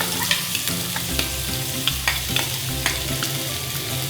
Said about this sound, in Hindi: इसमें सबसे पहले मैं डालूँगी प्याज। ऑयल मेरा गर्म हो चुका है।